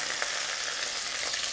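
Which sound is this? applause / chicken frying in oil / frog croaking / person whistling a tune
chicken frying in oil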